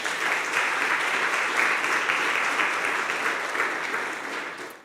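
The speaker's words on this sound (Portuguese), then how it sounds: "Pode aplaudir Jesus." Church congregation applauding, a steady, dense wash of clapping that holds for several seconds at even loudness before tapering off at the end.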